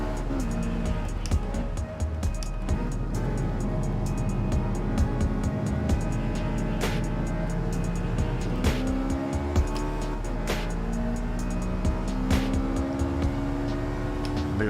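Race car engines howl and tires squeal in Gran Turismo 7, played on a PS4 Pro with a Miata among the cars. Rising and falling engine notes and repeated tire squeals run continuously, loud and close, under some talk.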